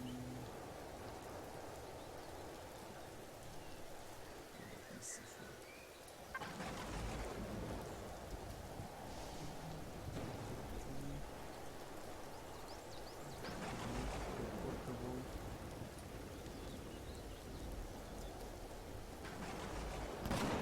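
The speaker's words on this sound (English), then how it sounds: "I don't like to be in the rain." Steady rain hiss with rumbling thunder in the survival game Empyrion, Alpha 9 Experimental, building into louder swells of downpour and rolling rumbles across the whole stretch, with no talking.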